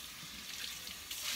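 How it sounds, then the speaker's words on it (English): Tap water runs steadily into a sink while a glass vase is rinsed out, a close, even rushing hiss with slight splashing changes. "I take a little bit of soap and just wash out the vase, kind of."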